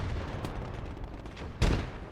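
A grenade blows up in the Gates of Hell: Ostfront war game, one short sharp boom rising out of ongoing battle noise and gunfire.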